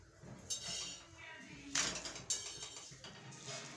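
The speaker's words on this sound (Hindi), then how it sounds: "सिलबट्टा धो रही है वो" Water splashing and scrubbing against a stone grinding slab, with a few clinks and knocks of kitchenware mixed in, close by and fairly quiet.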